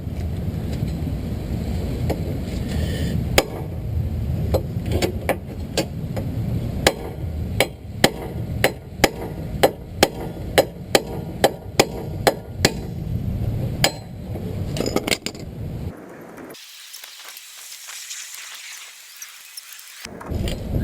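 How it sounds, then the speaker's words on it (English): Sharp metallic hammer blows strike repeatedly at an uneven rhythm, close by, knocking out wheel studs, followed by a few seconds of near silence and then a faint hiss. "grab yourself a hammer"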